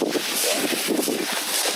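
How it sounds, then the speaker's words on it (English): Gusty wind buffets the microphone in a continuous rough roar, with no voices heard. "It's also dang windy, probably couldn't hear it either way"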